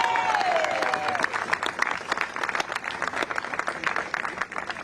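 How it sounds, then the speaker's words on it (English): Crowd applause at a Queens political rally for a New York governor candidate, a dense sustained clapping that fills the whole stretch at steady loudness, with a faint voice trailing off near the start. "Give him a big round of applause."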